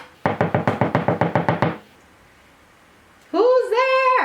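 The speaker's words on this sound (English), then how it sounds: "he knocked on the door" A fist knocks on a huge castle door in a fairy-tale telling, about ten quick, evenly spaced raps in a loud burst, then a pause before a voice speaks.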